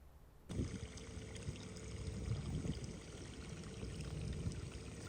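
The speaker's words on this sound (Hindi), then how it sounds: "इसकी स्पीड जो है मोटर की वो थोड़ी तेज़ कर दी है, तो पानी जो है वो ज़्यादा आना शुरू हो गया।" Water gushes steadily from a motor-driven pump at a mud house in rural Pakistan, starting abruptly and then flowing in a continuous, close splashing stream.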